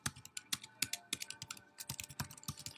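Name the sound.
typing code on a computer keyboard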